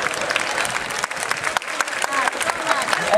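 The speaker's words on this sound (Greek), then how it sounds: "Το χειροκρότημά σας για τους οργανωπαίκτες εδώ." Applause for the instrumentalists at a village gathering in Doxato, a steady dense clapping from the crowd that carries on throughout.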